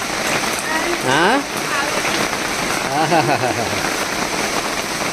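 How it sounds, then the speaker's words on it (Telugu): Steady rain patters on a surface throughout, with people talking over it at moderate volume, while chilli bajji fry outdoors. "చూసారా వర్షం ఎలా పడుతుందో"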